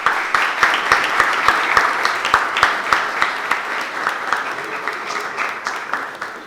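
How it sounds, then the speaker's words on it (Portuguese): Audience applause in a dance and physics class setting: many hands clapping together, steady and moderately loud, with a few sharper individual claps standing out at the start before the clapping thins toward the end. "queria aqui uma salva de palmas para Sara Melissa."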